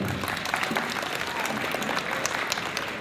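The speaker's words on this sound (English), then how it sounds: "Give him a round of applause" A crowd claps steadily for a few seconds, a dense, even patter of applause filling the room at a school spelling bee certificate ceremony.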